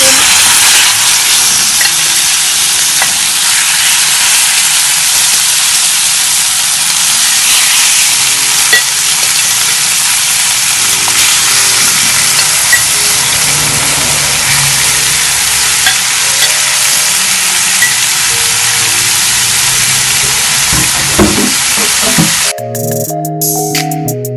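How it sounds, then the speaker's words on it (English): Chicken stir frying in a hot frying pan over medium-high heat, a loud, steady sizzle and crackle running nearly unbroken throughout, with a sudden change in sound right at the end. "On medium-high heat, I have my frying pan. It's hot, ready for my chicken."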